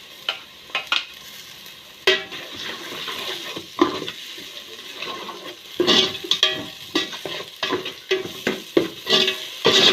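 Ginger garlic paste sautéed for chicken biriyani, with irregular bursts of stirring and scraping against the pot over a faint sizzle, close and fairly loud.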